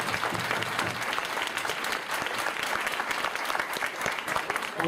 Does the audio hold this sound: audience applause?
yes